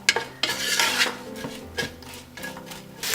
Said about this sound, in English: So we'll let it saute for a couple of minutes.